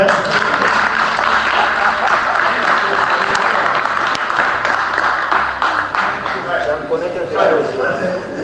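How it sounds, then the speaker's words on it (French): Dense, sustained applause from a church congregation, loud and continuous with a crowded wash of clapping and some voices mixed in throughout. "applaudissons pour le frère"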